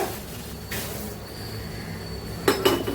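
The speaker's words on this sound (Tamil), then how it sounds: "அதுக்கு ஒரு சின்ன பேன் எடுத்து நம்ம" A small metal pan is pulled out and set down for tempering in a home kitchen while sambar cooks, heard as a couple of brief clanks and clinks against a low background hum, near and fairly faint.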